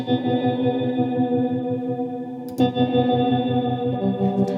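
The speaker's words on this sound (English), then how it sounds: "I did a tremolo effect and yeah, with a depth pretty high because I wanted to sound pretty staccato-like" Sustained electric guitar notes pulse in a fast, choppy on-off rhythm from a high-depth tremolo effect, steady and close, with a brief pause and re-strike midway.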